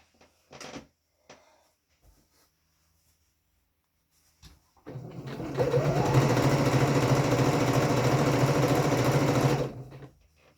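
Sewing machine stitching a waistband, a steady continuous motor whir and rapid needle rhythm running about five seconds, loud and close, preceded by a few brief clicks and handling knocks.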